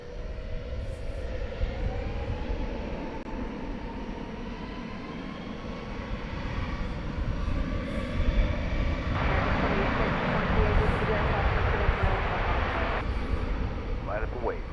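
A jet airliner rolls for takeoff from runway 18 left at DFW Airport at night, a broad, steady engine roar building in the distance while air traffic radio voices talk over it.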